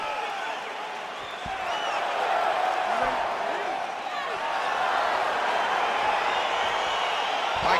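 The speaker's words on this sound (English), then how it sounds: "crowd getting excited as this fight gets underway" A virtual arena crowd in EA Sports UFC 4 roars steadily as a fight begins, a dense, continuous wash of cheering that swells slightly partway through, with a commentator's voice faintly mixed in.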